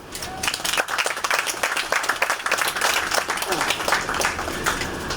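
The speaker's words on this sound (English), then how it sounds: "give yourself a round of applause" Audience applause at a university check presentation, steady dense clapping from a crowd mixed with cheering voices, continuous throughout.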